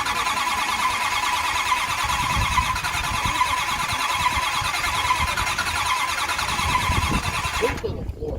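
A car engine at a street rod event cranks and catches, a steady mechanical drone that runs loud and close throughout before cutting off abruptly near the end, with voices talking over it.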